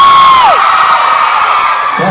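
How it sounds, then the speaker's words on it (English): A large concert crowd in Manila screams and cheers loudly and continuously, a dense high-pitched roar with whoops rising and falling, heard up close and filling the whole moment. "Give us a big scream up the top."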